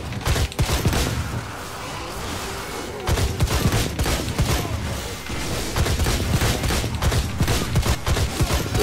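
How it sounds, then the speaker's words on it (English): Explosions and rapid gunfire-like bursts from the video game Blades of Time keep crashing in a dense, loud barrage for about nine seconds, with only a brief lull near the middle. "Oh no, explosions."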